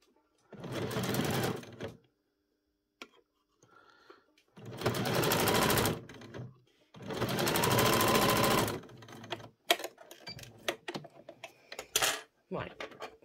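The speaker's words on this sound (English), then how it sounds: "we've sewn round the three sides" Bursts of a sewing machine stitching a pocket on a fleece doll's dressing gown, three loud runs separated by pauses, followed by scattered clicks and handling noises.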